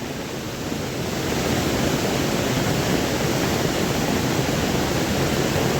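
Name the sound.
rising stream water flowing in heavy rain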